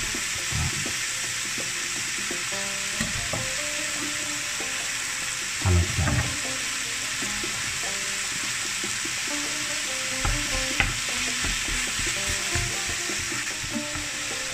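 Kofta sizzles steadily in a hot pan while being stirred, a constant close frying hiss with occasional louder scrapes and clinks of the utensil against the pan.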